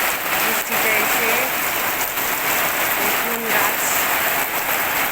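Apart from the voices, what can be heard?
rain falling in hot weather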